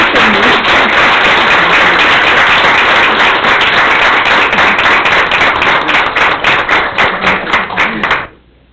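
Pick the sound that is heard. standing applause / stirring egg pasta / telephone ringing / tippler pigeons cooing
standing applause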